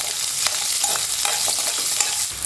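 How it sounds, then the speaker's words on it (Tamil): Small onions fry in hot oil with mustard seeds and fenugreek for a brinjal chutney, giving a dense, close sizzle broken by quick stirring scrapes. "வெங்காயத்தை நல்லா வதக்கிக்கலாம்"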